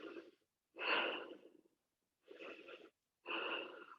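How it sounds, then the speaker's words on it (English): Heavy, wheezy breaths during a yoga locust pose come in four separate bursts with short silent pauses between them, close and fairly loud. "Short breaths, perhaps."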